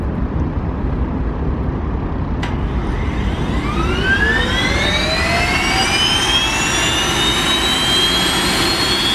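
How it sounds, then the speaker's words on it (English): Aircraft turbine engine with an inertial separator being motored over, a steady loud roar with rising whine tones that climb and level off as it spins up, close by and without talk. "he's about to motor the engine here"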